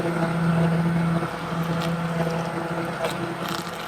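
A blender runs while blending plant-based mayo, a steady, loud motor drone that holds a constant pitch and then drops slightly in tone partway through, with no talking over it.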